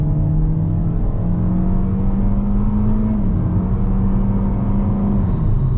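A 2025 Kia Soul EX with a 2-liter four-cylinder accelerates from about 25 mph in sport mode, a steady close interior engine drone climbing in pitch with a gear shift midway, heard alone.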